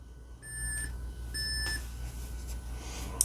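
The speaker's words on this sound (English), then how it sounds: "A few beeps as that ROM boots up." Two short electronic beeps from an Atari Berzerk RepliCade miniature arcade cabinet as its ROM boots, each a clear steady tone about half a second long, spaced roughly a second apart over a quiet hum.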